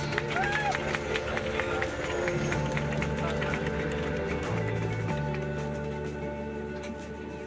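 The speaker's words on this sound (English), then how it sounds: "Big round of applause" Passengers on a plane landing at Heathrow applaud and cheer as the wheels touch down, a dense crowd clapping inside the cabin over a steady engine roar.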